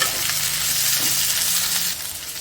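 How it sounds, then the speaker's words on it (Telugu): Okra pieces frying in a pan over medium to high flame, a steady close broadband sizzle with faint scraping as they are stirred, continuous throughout with no talk. "ఇప్పుడు మీడియం ఫ్లేమ్కి హై ఫ్లేమ్కి అడ్జస్ట్ చేసుకుంటూ ఈ బెండకాయ ముక్కల్ని కలుపుకుంటూ ఫ్రై చేసేసుకోవాలి"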